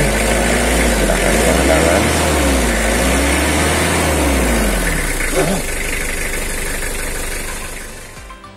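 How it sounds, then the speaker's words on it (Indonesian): A 2011 Mitsubishi L300 pickup engine idles with a steady low rumble and light rattling knock, close to the mic, while someone talks over it. "Untuk suara mesin seperti ini"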